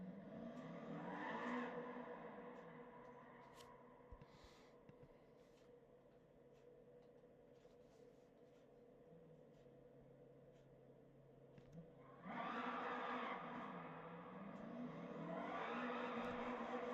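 A 1992 Koenig-Specials 190TT in Gran Turismo 7 launches from second gear, its engine rising in a loud rev burst, easing to a lower drone, then surging hard again near the end.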